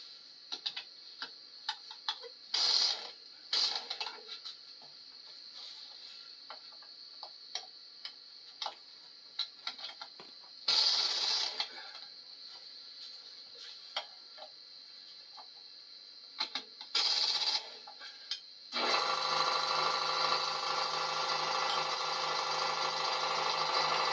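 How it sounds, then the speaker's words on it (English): An impact wrench works on the flat front tire of a 1953 Farmall Super C tractor. Several short, loud rattling bursts stand out over a steady ticking background, and a longer sustained burst comes at the end. "get a little bit of that wrench on there and then hit it with the impact"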